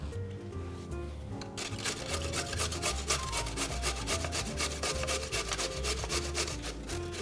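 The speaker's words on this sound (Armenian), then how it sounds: "Քերում ենք մեծ անցքերով։" Raw pumpkin is grated on the large holes of a coarse grater. Rapid, rhythmic rasping strokes come close up over a low, steady musical backing.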